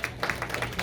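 A small group clapping at a birthday gathering, a short burst of several sharp claps in a loose rhythm, moderately close with a faint murmur of people behind.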